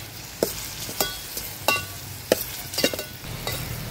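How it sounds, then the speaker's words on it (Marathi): Finely chopped onion and garlic fry in oil for a wet karandi shrimp curry cooked over a wood-fired chulha, with a soft steady sizzle and several distinct, irregular stirring scrapes and no talk. "कांदा आणि लसूण छान तेलावर आपल्याला शिजवून घ्यायचं आहे"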